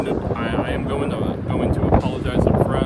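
Gusty wind buffets the microphone outdoors beside a 2020 Ford F-150 Lariat pickup in a constant low rumble, swelling in bursts, with a voice speaking underneath.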